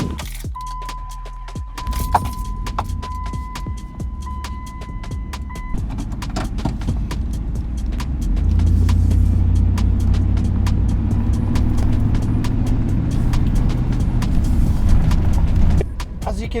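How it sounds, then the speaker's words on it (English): A 2004 Dodge Ram truck engine cranks and catches, settling into a steady idle after a door chime and some rattling, close by with no voices over it. "You switch it off, try to start it again, and the truck just starts and dies immediately."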